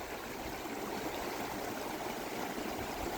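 A Colorado river rushes beside a roadside pull-off, a steady, full wash of flowing water with no pauses, loud and close throughout.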